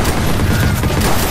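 Loud, dense gunfire from a sniper match in the game Decryption roars continuously at close range, a heavy wash of overlapping shots and booms without any talking.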